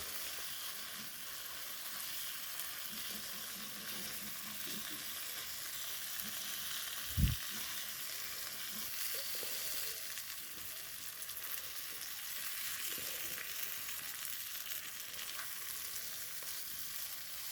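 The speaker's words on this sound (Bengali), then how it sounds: "ভেজে রাখা পটলগুলো এক এক করে সবকটা দিয়ে দিলাম দিয়ে আবারও কিছুক্ষণ ভালো করে নাড়াচাড়া করে নেব" Fried pointed gourd pieces are stirred in a pan with a soft, steady frying hiss, light scraping, and a single dull thump partway through.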